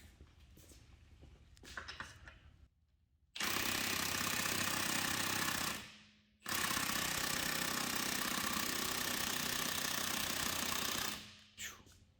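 A 1/2 inch impact wrench hammers at seized lug studs in an auto repair shop, two long, loud, continuous bursts of rattling impacts separated by a short pause, with quieter shop noise before and after.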